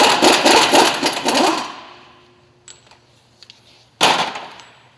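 A pneumatic impact wrench hammers the big axle nut on a 2012 Nissan Maxima during a wheel bearing job, in a loud, rapid rattling burst that fades out, followed by small clicks and a second short burst.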